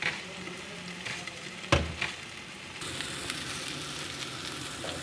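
Cauliflower with salt, honey and a little water simmers and sizzles in a pan, a soft steady hiss with a brief clatter near the middle, fairly faint and close.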